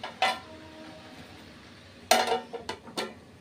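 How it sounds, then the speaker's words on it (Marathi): A metal lid is set on a cooking pan of bhangira wild greens in a Marathi home kitchen, a light clank near the start then a louder clatter with a few quick rattles as it settles, close by. "तर आपण त्यावर झाकण ठेवूया"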